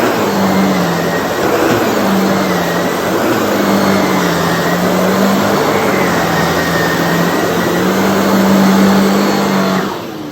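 A Sebo D4 Premium ePower cylinder vacuum cleaner runs steadily with a loud, dense whooshing roar and a faint wavering hum, cutting off at the end.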